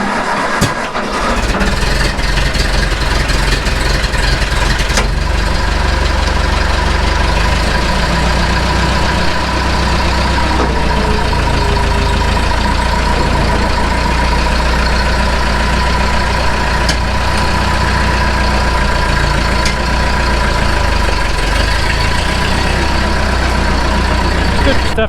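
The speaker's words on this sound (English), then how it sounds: "I don't think you guys mind watching me start up other old engines" An old engine starts and settles into a steady idle, a continuous loud rumble held close and unchanging for a long stretch.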